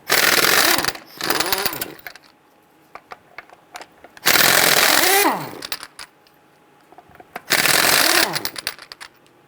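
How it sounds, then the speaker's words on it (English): Power tool with a 19mm socket loosening and removing lug nuts from a rear wheel of a 1994-2004 Ford Mustang, in three loud whirring bursts of about a second each, with quiet gaps and small clicks between them. "Using your 19mm socket, loosen and remove the lug nuts."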